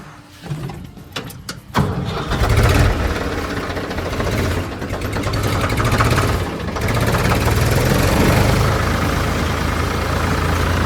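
A farm tractor engine cranks with a few sharp clattering bursts, then catches and settles into a loud, steady diesel rumble that keeps running close by, with no talking.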